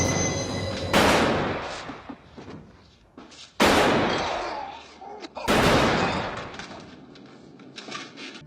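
Three sharp, loud gunshots in a film scene from The Godfather Part II ring out a few seconds apart, each echoing and fading into a low rumble between blasts.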